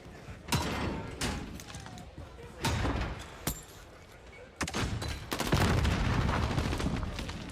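Rifle shots crack out in separate bursts during a Call of Duty Search and Destroy esports round between Minnesota Rokkr and Chicago Huntsmen, several sharp reports spread across the moment, with faint caster commentary underneath.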